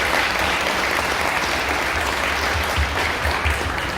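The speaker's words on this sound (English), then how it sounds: "So let's give all of these folks a round of applause" Steady audience applause at an appreciation event for the Dallas Police Department and scholarship recipients, dense continuous clapping at even loudness with no voices over it.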